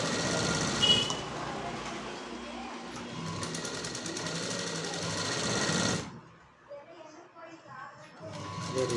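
A sewing machine stitches a sleeve onto a blouse in a fast, steady mechanical whir that runs for about six seconds, then stops, leaving quieter room noise with a brief rattle.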